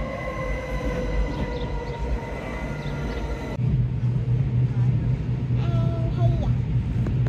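A train in the Swiss mountains running toward Lauterbrunnen and Grindelwald, with a steady loud rumble of wheels and carriage, a low hum and faint tonal whine, growing rougher partway through.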